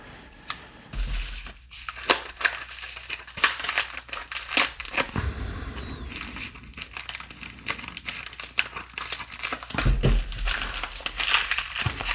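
Plastic packaging and envelopes crinkle and crackle as trading cards are opened, with dense, irregular rustling and crunching bursts close by that continue throughout, and no talking.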